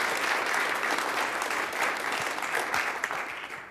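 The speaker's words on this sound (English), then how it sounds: "Big round of applause for that." Audience applause at an Oklahoma City City Council meeting, a sustained round of clapping from the chamber that holds steady for several seconds before tapering off.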